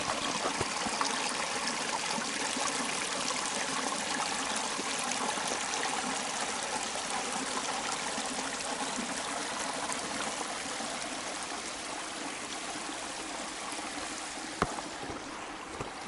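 Creek water flowing through a park, a continuous gurgling trickle and babble heard close and steady, with no voices, and a single brief knock near the end.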